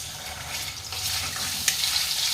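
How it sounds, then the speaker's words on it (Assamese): Ginger garlic paste sizzles and crackles in hot oil in a pan while being cooked for mutton liver, a steady, close frying hiss with light stirring scrapes throughout. "এতিয়া আমি তেলখিনি গৰম হ'ল, আমি এতিয়া আদা নহৰু পেষ্টটো দিম।"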